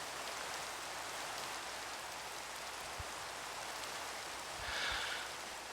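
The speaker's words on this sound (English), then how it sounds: "It's raining." Steady rain falling in the Minecraft video game, a soft continuous hiss that holds even throughout, with a few faint low thumps and a brief brighter swell near the end.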